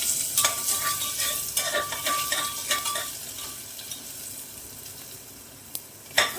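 Garlic frying in a pan for matar ghugni, a continuous hiss of sizzling oil with repeated spatula scrapes and light metallic clinks as it is stirred, no voices.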